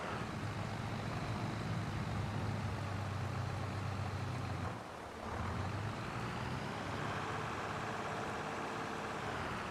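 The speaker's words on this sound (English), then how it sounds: "Come on, little tractor. He's got 150 horsepower. Just struggles a little bit with the gearing, I think." A 150-horsepower tractor in Farming Simulator 22 labours with a continuous, droning engine sound. The drone is close and steady, with a brief dip in the middle before the strained engine note resumes.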